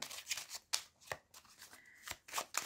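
A deck of Lenormand fortune-telling cards is cut and handled by hand. The close, soft riffles and flicks come in quick irregular bursts, faint and alone.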